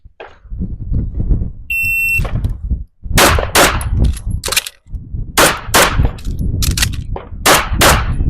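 Handgun shots ring out in a rapid steel-target shooting drill, with sharp loud cracks and metallic clangs in quick bursts, a high electronic beep of a shot timer starting the string and brief pauses, likely reloads, between groups.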